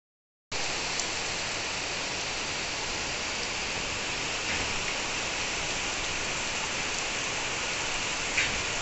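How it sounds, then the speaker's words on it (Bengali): Heavy monsoon rain pouring outside, a continuous even roar of downpour that starts abruptly and holds steady, with no voices. "বাইরে কিন্তু অঝোর ধারায় বৃষ্টি পড়ছে"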